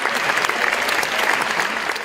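A Venice Film Festival audience gives a standing ovation, and dense, loud applause runs on without a break. Faint voices and cheers mix into the clapping.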